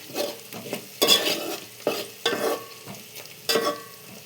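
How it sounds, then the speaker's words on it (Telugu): A spoon scrapes and stirs turmeric into onions frying in a pan for gongura chicken, in about six rhythmic, close scraping strokes over a soft sizzle. "కొని దీనంతా కూడా బాగా కలుపుకోవాలి"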